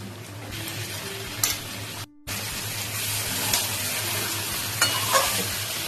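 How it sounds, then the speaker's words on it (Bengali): Mutton curry being stirred and sautéed in a pan, a continuous close sizzle with scraping stirs and a brief pause partway through, no voices. "মাটনটা দেখো খুব ভালো করে কষা হয়ে গেছে।"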